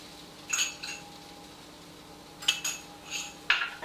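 Onions and grated garlic being stirred in a pan for tomato soup: a few sharp clinks and scrapes of a utensil against the pan, spaced apart, over a quiet background.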